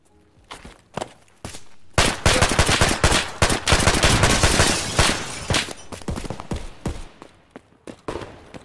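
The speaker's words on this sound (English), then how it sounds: "That's an SKS." SKS rifle fire in the video game Escape From Tarkov: sharp single shots, then a dense stretch of rapid gunfire and crackling exchange, trailing off into scattered shots and footsteps.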